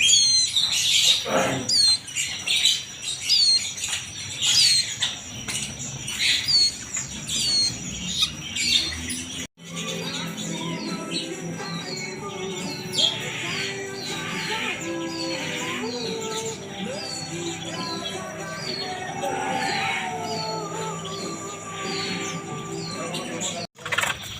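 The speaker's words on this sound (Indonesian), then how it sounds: "Nah, ini kacer ya, kacer mendarat nih." Oriental magpie-robin birds at a bird dealer's shop chirp and squawk in repeated sharp calls, with other caged birds twittering and a brief fluttering, all fairly close, against an indoor background hum.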